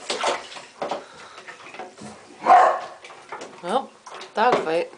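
Dogs bark and yelp in short, sharp bursts during a dog fight while swimming, with whimpering noises between, close by, mixed with people talking.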